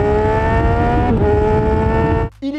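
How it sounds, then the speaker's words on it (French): A 2024 Yamaha MT-10 SP inline three-cylinder motorcycle engine revs loud and close, a sustained high-pitched wail that drops off abruptly near the end. "vous avez le 3 cylindres en ligne, le seul de cette catégorie qui a un son qui est quand même pas mal du tout"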